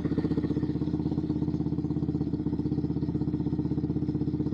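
A Yamaha XSR 155 motorcycle engine idles loudly without a muffler, around 85 to 88 dB, a raw, rapid, rattling putter that stays steady and close throughout.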